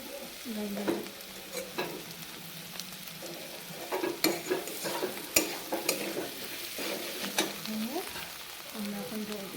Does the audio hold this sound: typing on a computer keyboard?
no